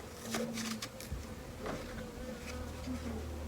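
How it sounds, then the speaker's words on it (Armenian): Bees at an open beehive hum in a steady, close drone, with individual insects buzzing past louder now and then; no voices. "դուք էլ կլսեք մեղուների սիրուն հզոցը"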